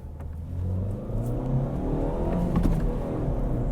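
A 2008 Ford Ka's small petrol engine revs up under acceleration on the road, a steady mid-pitched drone that rises and thickens as the revs climb, heard from inside the car.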